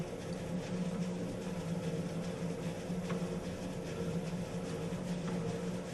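A stand mixer running at its low stir speed while mixing dough, giving a steady, even motor hum with no change in pitch or loudness throughout.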